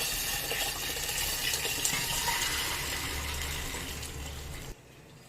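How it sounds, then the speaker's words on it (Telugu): Tomato rasam pours steadily into a vessel as a continuous close gushing, splashing flow with no talk, stopping abruptly near the end. "చారుని అంతా ఇలా దానిలోకి వేసేసుకుందాం."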